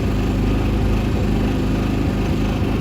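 A Powerhorse 4500i inverter generator converted to run on propane drones steadily at close range. The small engine hum is continuous and even, with a slight rhythmic flutter and no voices over it.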